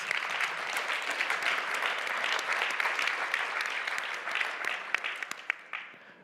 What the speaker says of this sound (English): let's give another round of applause to OEB